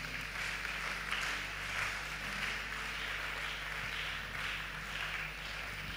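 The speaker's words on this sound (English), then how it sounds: "Are you clapping for them?" Church congregation clapping to welcome first-time Sunday visitors, a steady wash of applause filling the room at moderate level without pause.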